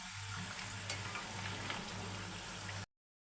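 Jaggery gavvalu, small shell-shaped sweets, frying in hot oil, giving a dense, even sizzle and bubbling close by with a faint stir, then stopping abruptly.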